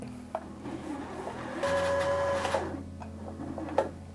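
A sewing machine's motor whirs briefly as the pedal is pressed to wind a bobbin, a short, close burst of about a second between quiet clicks and handling noises.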